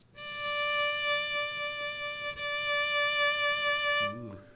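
One bowed fiddle note sustained with a gentle vibrato wavering its pitch, clear and close for around four seconds, then cut off as a voice briefly begins.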